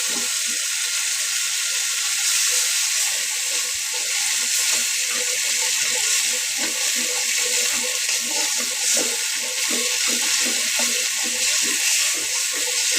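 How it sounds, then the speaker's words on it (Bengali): Cumin, dried chillies, onion, garlic and tomato paste fry in hot oil, a loud, steady, close sizzle with faint stirring scrapes underneath and no pause. "সব ধরনের মশলা, জিরা, শুকনো মরিচ, তারপর পেঁয়াজ, রসুন, একটু টমেটো বাটা এক করে এই যে মশলা কষিয়ে নিতেছি তেলের মধ্যে দিয়ে।"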